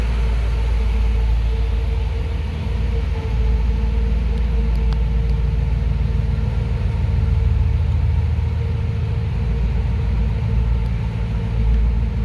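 A 1962 Chevrolet Impala SS idles with a steady, low rumbling exhaust note, close and continuous, with no talking.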